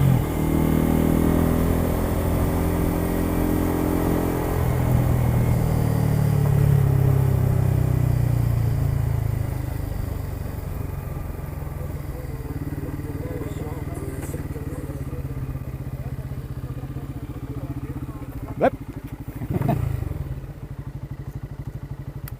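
A 2023 Bajaj Pulsar N250 motorcycle ridden on a race track, its engine droning loudly and steadily near the microphone, with a pitch that rises and falls through gear changes. A brief clatter and a couple of sharp knocks come near the end.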